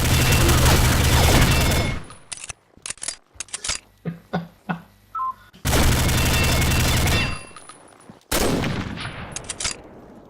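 Gunfire in a video game rings out in loud dense bursts and rapid volleys, broken by shorter separate shots in between, with no talk over it.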